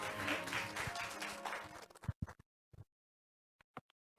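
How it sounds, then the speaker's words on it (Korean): Audience applause at a Korean semiconductor technology exchange seminar, a full burst of clapping from the hall that fades out after about two seconds, leaving a few scattered isolated claps. "다시 한번 큰 박수 보내주시면 감사하겠습니다"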